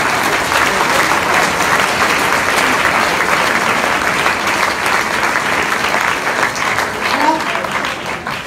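Audience at a 2019 aviation film-night event applauds itself, a steady dense wash of clapping that stays loud and unbroken throughout with no voices on top.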